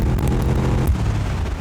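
A supercharged Corvette C4 engine accelerates with a dense, low, steady roar that stays loud for a short burst, with no speech over it.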